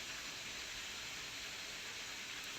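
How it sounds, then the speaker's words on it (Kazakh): Meat boiling in a kazan cauldron while naryn is prepared, giving a steady, even hiss of simmering liquid that holds at one level throughout, with no voices. "Мына жақта біздің қазанымызда етіміз әдемі етіп қайнап жатыр."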